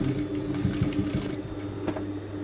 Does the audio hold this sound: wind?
no